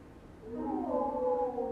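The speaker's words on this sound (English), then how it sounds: "I can hear the whales singing" Whale song in the distance: a single drawn-out, rising tonal moan with harmonic layers, eerie and sustained, heard alone without talk.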